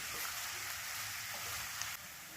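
Finely chopped onion frying hard on a high flame, a dense, even hiss of sizzling oil that holds steady throughout, close and fairly loud with no voices.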